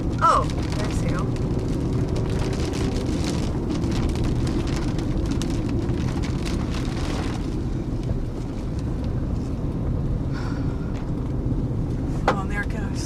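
Huge hail hammers cars after a tornado near South Plains, Texas, in a dense, loud, continuous clatter with occasional sharper hits, while people talk over it.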